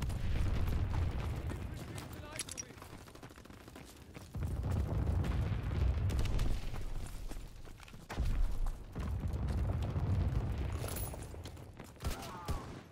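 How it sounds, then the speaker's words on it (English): Flak guns fire in the Call of Duty: WW2 video game as repeated deep booming bursts in long rumbling stretches, with voices heard alongside. "Flak guns firing, clearing the skies."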